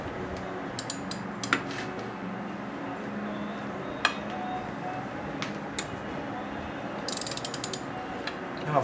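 Breaker bar slowly loosening bolts during a Geo engine rebuild, with scattered ratcheting clicks and metallic ticks over a steady background hiss.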